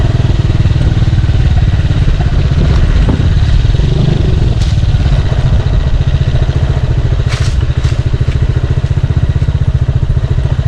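A motorcycle engine drones loud and close as it struggles along a rough, barely passable road, with occasional clatters and thumps over the steady noise and no talking.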